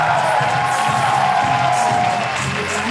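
A live audience at a comedy roast show bursts into loud, sustained applause and cheering that holds steady for about three seconds, with whoops rising through the dense clapping.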